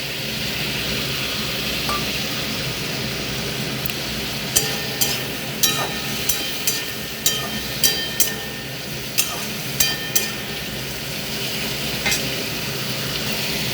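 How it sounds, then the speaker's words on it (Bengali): Ground spices sautéing in a pan for a fish-head and Malabar spinach dish, a steady loud sizzle throughout with a series of sharp metallic clinks from a utensil striking the pan in the middle stretch. "গুঁড়ো মশলা দিয়ে 2 মিনিট আমি কষে নেব।"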